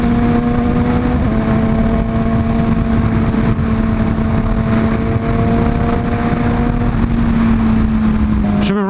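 A Yamaha R6 sport motorcycle holds a steady engine note while riding, with constant loud wind rush and a slight pitch change near the end.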